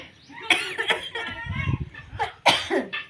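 A few harsh coughs break out close by, mixed with brief throat sounds and some nearby talking.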